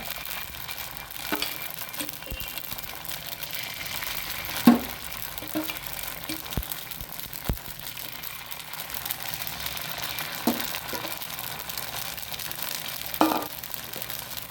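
Food fries in a hot pan for a healthy breakfast, a steady sizzling hiss running throughout, broken by a few sharp clinks and stirring scrapes.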